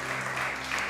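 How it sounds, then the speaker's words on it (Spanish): A church congregation at a Spanish-language worship service applauds, with a brief, steady wash of many hands clapping at an even level. "Dale otro aplauso al Rey."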